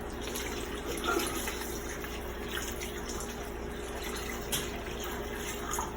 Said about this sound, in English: I'm gonna pour a little bit of water up in here